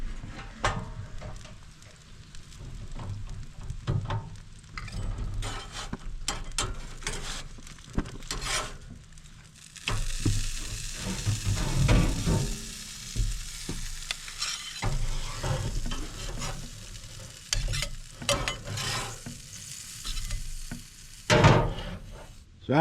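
Pike frying in butter with onions, a close, steady sizzle with intermittent scraping and stirring clatter from a utensil in the pan, and no voices.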